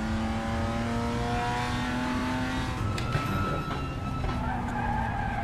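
BMW M2 CS Racing race car in the RaceRoom racing game, its engine revving steadily with tire skid and intermittent rapid clacking from the traction control as the throttle is reapplied, no talking.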